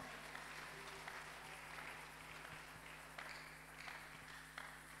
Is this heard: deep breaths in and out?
no